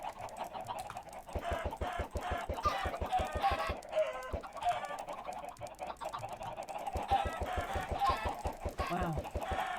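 Chickens cluck in a Minecraft game world, repeated short squawks and clucks recurring steadily through the whole stretch, fairly close and clear, with no talk over them.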